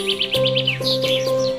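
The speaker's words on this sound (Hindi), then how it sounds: "चुन चुन करती आई चिड़िया" A sparrow chirps in a quick series of bright tweets over a sung nursery rhyme melody with sustained musical tones, the chirps repeating in a lively rhythm.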